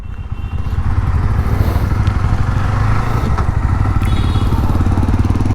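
A Jawa 42 motorcycle engine runs steadily and loud after a brief start, with a throbbing low thump and mechanical clatter, close by with no talk.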